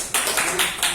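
A small group claps briefly for a student narrator during a class presentation, a quick run of a few hand claps close by in about a second.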